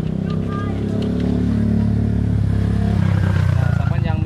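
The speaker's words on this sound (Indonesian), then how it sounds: "Nah, kita nyalakan mesinnya ya." A trail motorcycle idling close by with a steady, throbbing engine chug that builds slightly, while a person talks over it.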